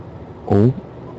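Truck engine braking in Euro Truck Simulator: a short, loud, harmonic engine roar rising briefly over a low steady drone, then fading back.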